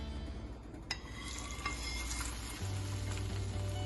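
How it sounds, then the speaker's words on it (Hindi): Hot oil sizzles and crackles steadily as a browned garlic and cumin tempering hits a pot of masoor dal, with a few stirring clinks, and the sizzle swells louder near the end. "ये लहसुन और जीरा हो चुका है ब्राउन, मैं इसको अब डाल दूँगी दाल में।"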